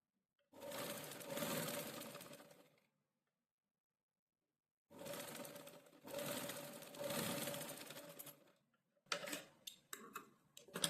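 A sewing machine stitches a princess-cut garment seam in two loud whirring runs separated by a silent pause, followed by a few quick ticking clicks of the machine.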